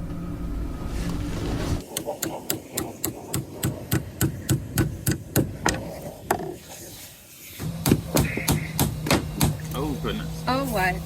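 Repeated sharp hammer blows knocking at an epoxied-in window on a boat in a boatyard, a steady series of loud, close impacts with a brief pause midway, and a voice murmuring underneath.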